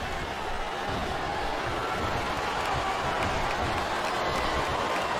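A packed arena crowd roars and cheers in the SmackDown vs Raw 2008 wrestling game during a DX vs Rated RKO match, a steady wash of distant crowd noise throughout.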